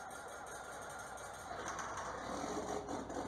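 A John Deere 4640 tractor engine in Farming Simulator 19 cranks and fires up, a faint mechanical clatter that swells into a louder, steady running rumble halfway through.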